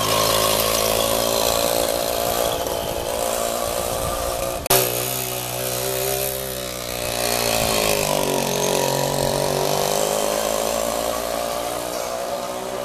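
A Riga 13 moped's small two-stroke engine runs continuously, close and loud, with a buzzing, rattling drone that shifts pitch briefly midway as the throttle changes.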